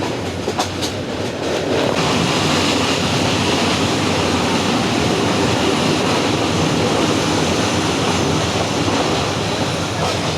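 A train rumbles past at close range, a loud sustained roar with rhythmic wheel clatter filling the whole stretch.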